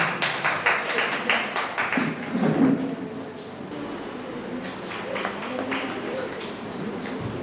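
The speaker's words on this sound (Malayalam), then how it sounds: "ഇതൊരു കൈയടി." Applause at a family reunion, a crowd clapping briskly for a few seconds before fading into murmuring room noise with voices talking.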